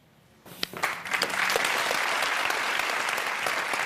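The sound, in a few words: studio audience applause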